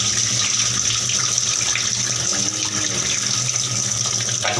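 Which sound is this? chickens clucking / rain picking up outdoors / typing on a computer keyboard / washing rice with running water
washing rice with running water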